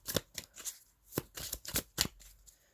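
A deck of tarot cards being shuffled close up, a quick series of crisp riffling bursts separated by brief pauses, soft in level with no voice over them.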